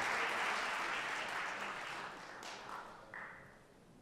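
Audience applause in a school hall after a student's recitation of the Gettysburg Address, a full burst of clapping that gradually thins and fades, with a few scattered claps near the end.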